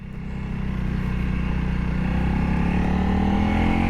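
A Honda CRF 300L dual sport motorcycle rides a coastal road on Cebu in too high a gear while the clutch is slipped, its engine droning steadily and building slightly in loudness, close and continuous with no speech.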